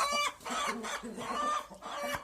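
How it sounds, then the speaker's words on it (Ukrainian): A rooster clucks in low, repeated bursts close by, with other chickens faintly audible and no one talking. "зараз кугут буде нападати"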